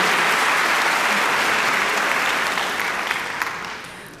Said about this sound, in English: That deserves an applause as well